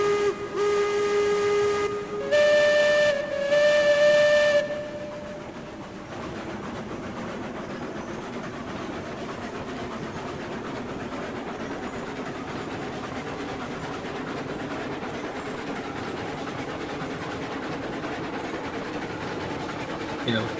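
A steam locomotive on a 3-foot narrow gauge line in the Railroads Online video game sounds two long whistle blasts, then settles into a steady hissing, chuffing rumble as it departs.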